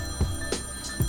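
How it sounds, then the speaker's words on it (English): A short text-message notification ringtone chimes three times in quick succession, bright and clear over a steady background hum in a garage during a Porsche 3.0L axle rebuild. "and that's her ringtone"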